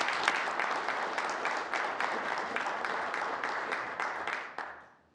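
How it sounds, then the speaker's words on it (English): A room full of members in the Newfoundland and Labrador House of Assembly applaud together in a dense, steady burst of clapping that fades out near the end. "Please join me in applauding Levi Nukasuk's contribution to his people."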